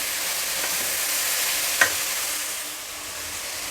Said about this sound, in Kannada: ಕಾಳುಗಳನ್ನು ಎಣ್ಣೆಯಲ್ಲಿ ಅಂದರೆ ಒಗ್ಗರಣೆಯಲ್ಲಿ ಈ ರೀತಿ ಹಾಕಿ ಹುರಿಯೋದ್ರಿಂದ